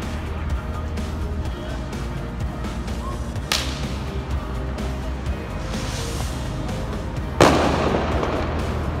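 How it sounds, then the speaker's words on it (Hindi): Firecrackers set off by young men at a street intersection in Deira, Dubai at night, giving two sharp loud cracks several seconds apart over a steady busy street background. "ये देख रहे हैं, ये पटाखे ही फोड़ रहे हैं।"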